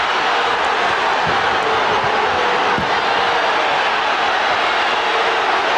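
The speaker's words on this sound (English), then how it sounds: "Crowd reacting." A basketball arena crowd at America West Arena in Phoenix reacts during Game 2 of the 1993 NBA Finals between the Suns and Bulls, producing a dense, loud, continuous roar that holds steady throughout.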